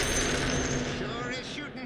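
Rapid gunfire in a Dota 2 or Marvel Rivals match rattles on steadily for about two seconds, dense and continuous, with the game's other sounds mixed in.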